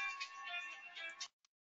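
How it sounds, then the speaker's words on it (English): Phone ringtone cut short, a bright warbling electronic ring sounding for about a second before stopping abruptly, followed by one faint short blip. "Phone ringing."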